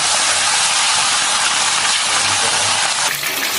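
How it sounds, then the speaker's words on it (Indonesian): Marinated chicken goes into hot oil in a wok and fries with a loud, steady, broadband sizzle that holds without a break for several seconds, close up and with no voices. "Kalau sudah panas, kita masukkan ayamnya."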